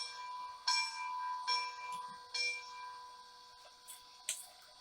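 Bachmann Spectrum K4 PRR model steam locomotive bell, struck sound effect ringing in evenly spaced metallic dings, about five strikes with fading tones, fairly faint and alone.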